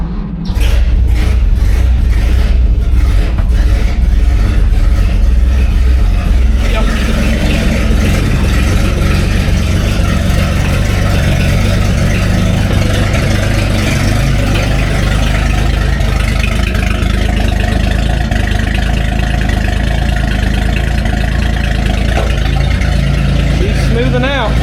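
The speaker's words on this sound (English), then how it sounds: "So it should start right up and idle." Cub Cadet 149 garden tractor engine idling after a cold start, a loud, steady low-pitched putter that runs continuously, with brief uneven bursts at the start before settling.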